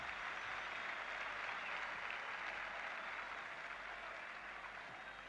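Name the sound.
football crowd applause at Belfast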